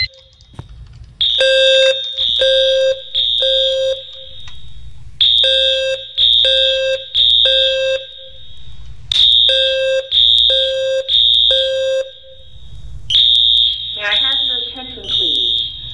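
A building fire alarm in a Roblox game sounds loud and repeated, with bursts of high electronic beeps in rhythmic groups of three and a low sweeping tone at the end.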